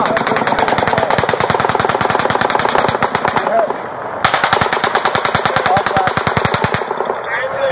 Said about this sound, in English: the shots are coming over your head!